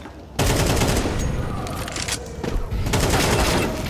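Pistol fire from a USP in a Counter-Strike esports match at IEM Rio: a dense, loud burst of shots that starts abruptly and runs almost continuously, with overlapping crowd or caster noise blending in beneath.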